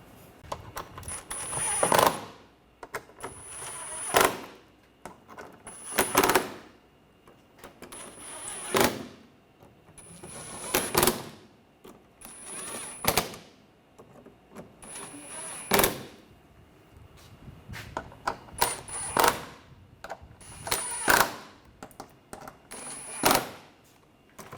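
Screws on a front bumper impact absorber of a 2013-2019 Ford Escape being tightened: a regular series of about a dozen short, close mechanical ratcheting bursts, roughly two seconds apart, with quiet gaps between.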